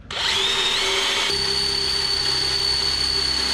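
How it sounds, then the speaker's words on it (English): A power drill bores a 11/32 hole for installing Luverne Grip Step running boards on a Ram Promaster 3500 Extended van, spinning up with a whine and then grinding steadily, loud and close, with no talk. "So I'm going to drill this one here,"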